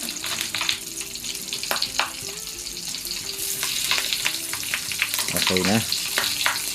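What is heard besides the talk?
frying goat meat for crispy sisig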